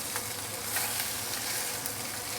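Fish frying in a hot pan, cooking for a milky fish soup, gives a steady, close, bright sizzle with faint crackles and spits throughout and no talking.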